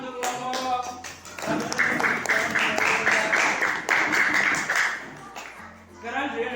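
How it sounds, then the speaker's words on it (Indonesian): A group of participants in a classroom coaching session applauds a presenting group, with a few seconds of steady clapping after some brief talk, fading before speech resumes. "Beri tepuk tangan untuk kelompok."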